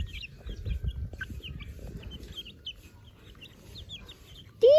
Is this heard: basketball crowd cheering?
no